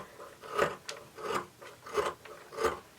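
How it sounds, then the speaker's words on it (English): Scissors cutting through an old vintage quilt, with four or five soft, rhythmic rasping snips at a steady pace, close and fairly quiet, with no talking. "we're going to just start cutting through here"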